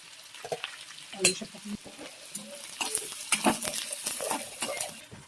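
Onion fries in plenty of hot oil, making a sizzle broken up by repeated scraping and stirring of a spatula against the pan. The sound is close and moderately loud, and no one speaks.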